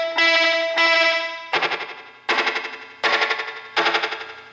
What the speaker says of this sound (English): So my tape delay sounds like this.